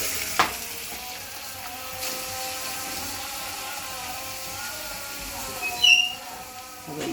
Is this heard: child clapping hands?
no